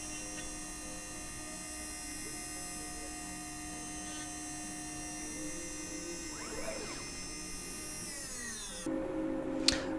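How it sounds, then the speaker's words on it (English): A CNC end mill makes a light spring pass over a branding iron workpiece to remove raised burr, a steady high whine with humming tones and a shift near the end. "so I'm just doing a spring pass, just removing all the raised burr from the top."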